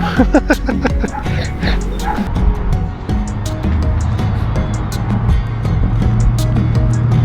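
Outdoors in the historic town of Mariposa, California, a dog barks sharply several times in quick succession, then falls silent while a steady low rumble, like a passing vehicle, continues.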